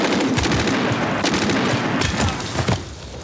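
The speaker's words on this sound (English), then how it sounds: "Who's doing the shooting?" Rapid machine-gun bursts and scattered rifle shots from the 1998 war film Saving Private Ryan, loud and continuous, crackling in dense fusillades with a few sharper reports.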